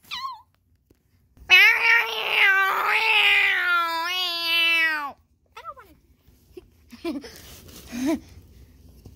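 A cat meows and caterwauls in long, loud, wavering yowls that rise and fall, followed by a few shorter, fainter cries with brief gaps between them.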